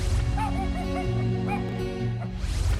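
An Aspin, a Filipino native dog, gives a series of short, yelping barks and whimpers close by over steady background noise, with a voice faintly present.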